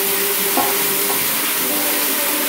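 Onions frying in a pan for a Trim Healthy Mama sweet and sour chicken, a steady broadband sizzle close up with a couple of brief stirring scrapes, no voices.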